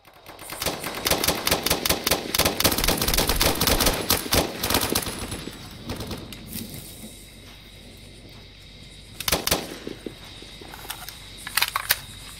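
Gunfire in the video game Blackhawk Rescue Mission 5: a dense, loud burst of rapid automatic fire for several seconds, then a quieter gap before a few scattered shots and short bursts.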